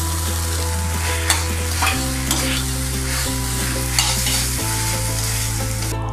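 Corn is stirred and fried in a pan with red chili sauce, a continuous sizzle with repeated scraping and clinking of a spoon against the pan over a steady low hum, no talking.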